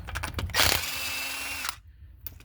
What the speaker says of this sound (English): I'm just using power tools to be a little faster.